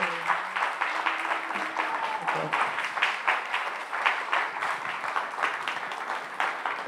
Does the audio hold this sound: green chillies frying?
no